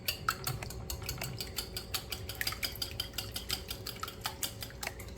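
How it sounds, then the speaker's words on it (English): Seven eggs beaten in a bowl, a steady run of quick light clinks and scrapes from the utensil against the bowl, close and fairly quiet, with no talking. "So I'm going to go ahead on and beat these eggs up"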